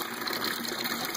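Water siphoning through an ABS plastic pipe standpipe, a steady rushing gush with a hollow, bubbling pipe resonance, close and continuous throughout.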